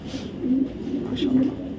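Long-distance racing pigeons, club-bred females, give soft low coos in two short rolling phrases, close by, with faint room noise behind.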